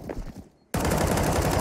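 Automatic gunfire in a professional Counter-Strike match, a loud continuous burst of rapid shots that cuts in abruptly after a brief quiet gap.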